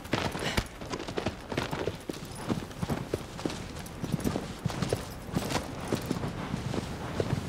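Horse hooves clip-clopping in the video game Shadow of the Colossus, a steady rhythmic trot of close, crisp hoofbeats running throughout without talk.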